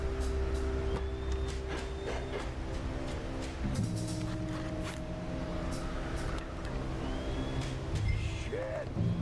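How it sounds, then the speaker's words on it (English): An approaching train in Red Dead Redemption 2, a steady low rumble with sustained tonal hum and occasional clanks and squeals, continuous and fairly full throughout. "The train!"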